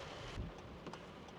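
Steady rain pouring outdoors during a film shoot day, a soft continuous hiss of falling water with a gusty, wind-like rumble underneath, with no other sounds.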